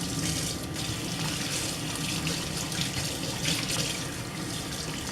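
Water runs steadily from a tap during hair washing, a continuous close splashing flow throughout with no talk.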